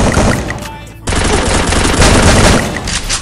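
Rapid bursts of automatic gunfire from the mobile battle royale game Free Fire, played on an iPhone 8 Plus, crackling loud and dense with a brief cut near the start.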